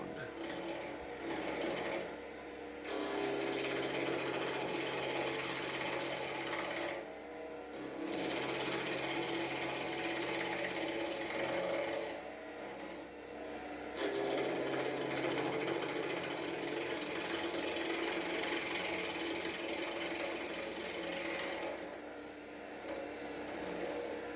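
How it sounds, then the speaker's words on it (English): A skew cuts an ash blank spinning on a wood lathe, making a steady rasping, scraping whir that runs for long stretches and breaks off briefly several times. "The blank is ash and it's been prepared and mounted on the lathe as we turn it round."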